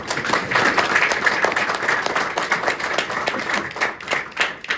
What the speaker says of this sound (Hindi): थैंक यू भाई, एक बार तालियां हो जाने के लिए।